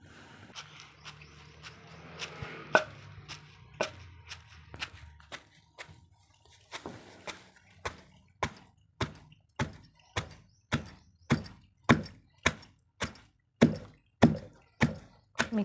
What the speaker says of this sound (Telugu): కాకపోతే నేను రోట్లోనే దంచాలని దంచుతున్నా.